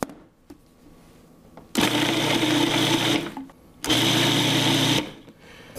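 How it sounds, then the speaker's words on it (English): A food processor pulses pepper and salt toward a paste, giving two loud whirring bursts of about a second each, separated by a short pause, close to the microphone. "we're just gonna keep pulsing this until everything's chopped up nice and uniform"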